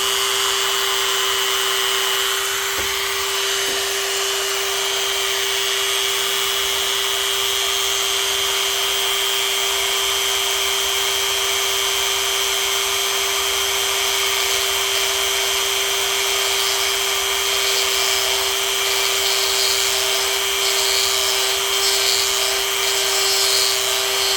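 A power tool cuts into a Big Mouth 102 mm throttle body that has been masked with tape and lubricated with cutting wax. A steady, loud high-pitched whine with a constant tone runs through the whole stretch without pause, with no talk over it.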